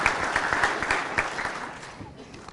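Audience at a school board of education meeting gives a round of applause, a dense patter of claps that fades out over about two seconds.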